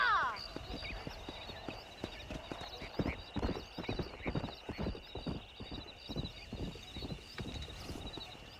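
Horse hooves galloping in the Red Dead Redemption video game, a rapid rhythmic clip-clop that builds into a steady run, with a whinny at the start and game sounds and a voice layered over it.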